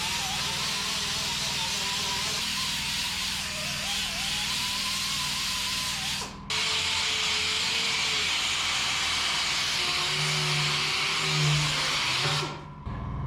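A grinder works a metal panel in a car shop, giving a loud, steady, hissing whine that runs for about six seconds, cuts out briefly, then resumes for another long pass.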